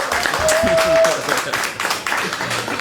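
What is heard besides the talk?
round of applause from the audience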